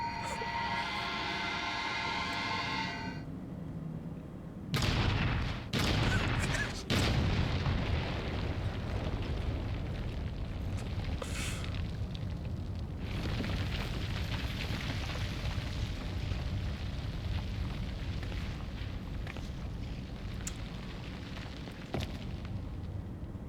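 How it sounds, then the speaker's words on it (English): A cartoon bomb goes off in a sudden loud explosion, followed by a long rumbling roar of fire and debris that stays dense and noisy. "It wasn't a bad egg at all! It was a bomb!"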